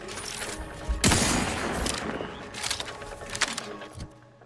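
Shotgun fire in the sci-fi shooter game The Outer Worlds 2, a loud close blast followed by a decaying rattle and a few smaller sharp hits and clicks trailing off.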